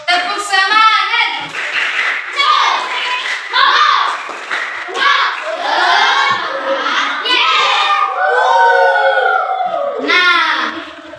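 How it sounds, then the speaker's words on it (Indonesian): Children in a classroom doing a rhythmic spirit-clapping routine, quick patterned hand claps mixed with loud, excited young voices chanting and calling out throughout. "ayo dulu tepuk semangat. Tepuk semangat."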